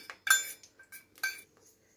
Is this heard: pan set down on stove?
yes